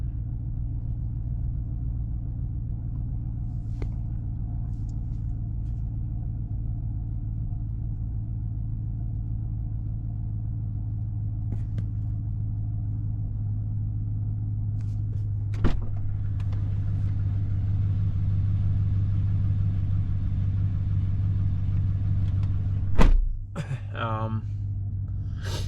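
A cold Chevrolet Silverado pickup idles with a steady, loud, deep rumble that holds throughout, and a voice talks faintly over it before a brief clunk near the end.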